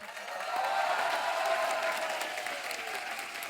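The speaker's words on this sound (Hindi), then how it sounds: "लोग तालियां बजा रहे हैं।" Audience applause from a studio crowd on a Hindi comedy talk show, a steady dense patter of many hands clapping that swells after the first half second and holds evenly throughout, with no voices over it.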